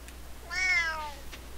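A single cat meow close by indoors, a short rising-and-falling tonal call of under a second, clear and moderately loud over quiet room hum.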